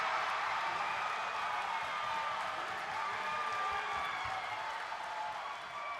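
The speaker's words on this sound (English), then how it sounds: "Listen to that crowd." A college women's basketball crowd roars and applauds after a three-point shot, a continuous, fairly distant wall of cheering and clapping from the arena stands.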